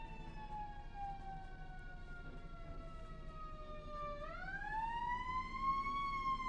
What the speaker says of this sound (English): there's a siren going on outside, and I don't like it